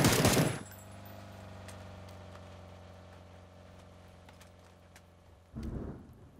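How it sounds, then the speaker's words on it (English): Rain and thunder in the battle royale game PUBG on Xbox One. Loud rumbling crashes open and close the stretch, with a steady low hum and rain hiss between them and no speech. "I think it's just dark because it's raining."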